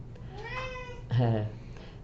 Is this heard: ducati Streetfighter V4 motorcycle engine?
no